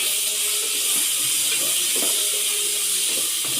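Sliced okra (lady's finger) for sambar sizzling and hissing in a hot pan as it is stirred, a steady bright frying hiss with soft scraping and clinks from the spoon, with no talking over it.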